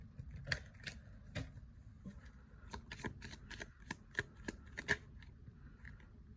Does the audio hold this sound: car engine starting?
no